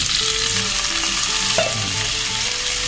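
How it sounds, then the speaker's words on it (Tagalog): Shrimp and prawns sauté with garlic, onion and ginger in a loud, dense, unbroken sizzle close up, with a single spatula knock near the middle. "Igisa natin sa bawang, sibuyas tsaka luya."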